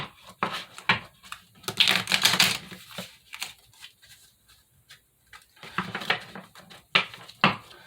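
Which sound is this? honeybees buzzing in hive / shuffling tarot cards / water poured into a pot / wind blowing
shuffling tarot cards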